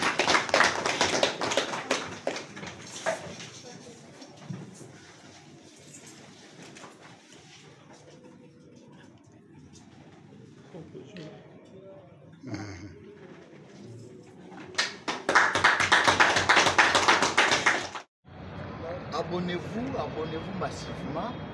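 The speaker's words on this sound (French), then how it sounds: "sous nos applaudissements" An audience applauds at a university partnership event in Kinshasa, with two bursts of clapping, one at the start and a louder one later that cuts off abruptly, separated by quieter room sound and talk.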